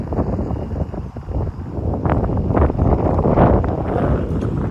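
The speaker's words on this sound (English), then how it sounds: "Look at how windy it is out here." Strong wind blows across an open farm field being seeded with gamma grass, a dense continuous rumbling roar buffeting the microphone with gusty swells and no voices.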